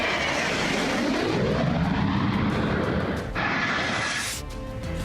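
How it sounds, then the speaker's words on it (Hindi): Israeli fighter jets roar low over Beirut, a loud, continuous broadband rumble that sweeps past and shifts in pitch as the aircraft passes overhead, with no voices. "इजराइल के फाइटर जेट से जानबूझकर बेरूत के आसमान में तेज आवाज निकाल रहे थे"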